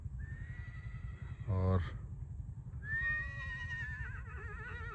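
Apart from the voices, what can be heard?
mare during gait training, neighing and hoof clip-clop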